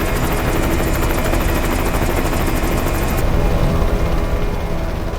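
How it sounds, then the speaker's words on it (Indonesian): A helicopter in a zombie-outbreak film scene gives a loud, continuous rotor chop that dominates the scene, mixed with rapid bursts like gunfire. "Mijin dan yang lainnya menyadari ada helikopter yang mendekat"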